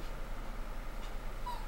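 A dog named Toby whimpers softly indoors, a faint high thin whine breaking through a steady low hum of background noise for a couple of seconds.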